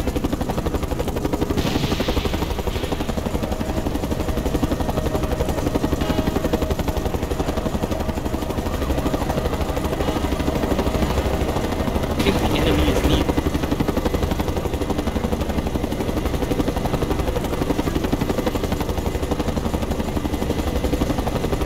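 A loud, constant helicopter roar in the video game Mercenaries 2 fills the whole stretch, with a few brief noisy bursts over the steady rotor wash.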